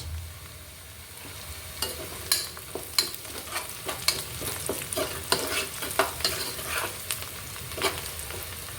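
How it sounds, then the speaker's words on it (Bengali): Chopped onion fries in a pan for a kids' egg and potato curry, a steady close sizzle broken by repeated scraping stirs of the spatula at an uneven rhythm. "পেঁয়াজ কুচিটা কিছুক্ষণ ভেজে নিব"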